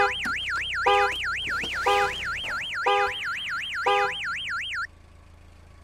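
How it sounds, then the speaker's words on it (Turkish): A car alarm blares in the video game Gas Station Simulator, a loud, steady warbling wail with rhythmic pulsing chirps that runs nearly five seconds, then cuts off abruptly. "Alt tarafı alarm ötüyor."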